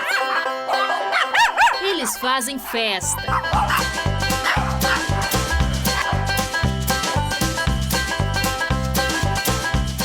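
Dogs at a five-star dog hotel in Manaus yip and whine in a short burst at the start, then carry on faintly beneath loud, upbeat music with a steady beat, while a person talks over it.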